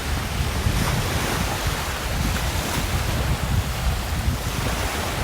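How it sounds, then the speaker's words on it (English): Surf washing onto a sunny beach along the long frontage of a six-hectare property in Calauag, Quezon, Philippines, a steady broadband roar with wind rumbling on the microphone, loud and continuous with no break. "the sound of the waves"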